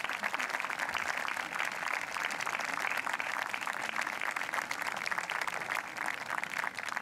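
Audience at a 2018 concert clapping steadily, a dense, even wash of applause held at the same level throughout, moderately distant and with no voices over it.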